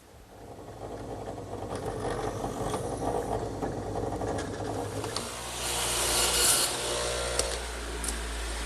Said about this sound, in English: Now I'll change to a smaller bit to make a pilot hole for the screw.